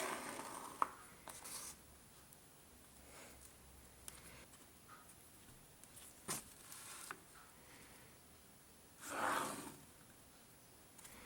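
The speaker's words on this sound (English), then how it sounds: "measure your silicone phone case and then add 1/4 inch to the overall size and mark this" Pen marking a pattern onto paper for a leather phone wallet, soft scratchy strokes and light scribbles scattered across the stretch, faint and close with occasional louder scrapes.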